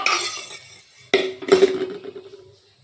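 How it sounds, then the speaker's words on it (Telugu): A metal kadai (wok) is set down on a kitchen stove, making two close metallic clanks with a short ringing tail, after a softer rattle at the start. "ఇప్పుడు స్టవ్ మీద ఒక కడాయి పెట్టి"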